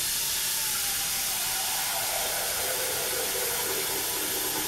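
Hot water sprays steadily onto a bathtub coated in heavy soap scum, a continuous broadband hiss at moderate level that holds unbroken throughout with no talking.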